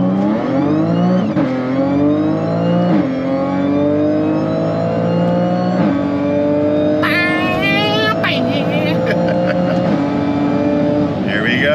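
An Audi B8 S4 launches on a quarter-mile run. The engine revs climb through several gear shifts, rising and dropping in a repeated pattern, loud and close from inside the car, with a brief high-pitched chirping sound partway through.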